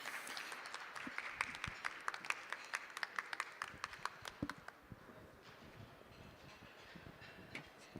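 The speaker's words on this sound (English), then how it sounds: "So let's give him a round of applause" Scattered audience clapping at an ICPC programming education event as the next speaker is introduced; sharp individual claps in the first half, thinning out and fading toward the end, fairly distant and not very loud.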